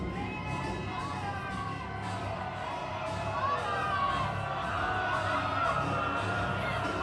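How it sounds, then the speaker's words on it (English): A pro wrestling arena crowd boos Kevin O'Doyle during a tag team match, a steady, dense roar of many voices that swells slightly midway and holds through the whole stretch. "the crowd adamantly booing Kevin O'Doyle"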